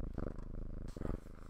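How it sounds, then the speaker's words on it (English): A cat purrs on a person's lap, close and quiet, a soft rhythmic rumble that pulses with each breath. "as I sit here with a cat purring on my lap. You might be able to hear her, actually."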